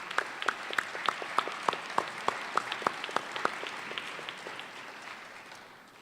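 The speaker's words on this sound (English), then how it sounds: "So a nice round of applause for all the parents here tonight." An audience at a high school National Honor Society induction ceremony gives parents a round of applause: a dense, steady patter of many hands clapping that gradually thins and fades out.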